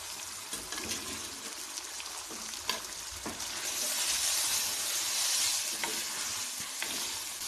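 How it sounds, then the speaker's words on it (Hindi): Red kidney beans frying in masala, heard as a close, steady sizzle under repeated stirring and scraping in the pan, with the hiss swelling louder midway. "दाल को मसाले में अच्छी तरह मिक्स करें और इसको 3-4 मिनट के लिए भून लें।"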